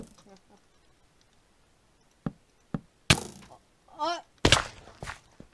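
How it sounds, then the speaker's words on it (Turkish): Blocks being broken in Minecraft, several sharp cracking thunks spaced irregularly, close, with a voice talking around them. "İçindeki dağınıklıkları da kıracağım dışarıdan güzel gözüksün diye"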